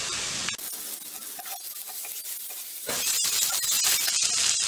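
Ivy gourd fry being stirred in a pan over a low flame produces a continuous close sizzle and hiss, with scraping and rustling of the pieces, and a louder surge of frying partway through.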